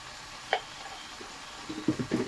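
Jute leaves and other leafy greens fry in a pan with salt and turmeric, a faint low sizzle with a sharp scrape and a few soft stirring knocks toward the end.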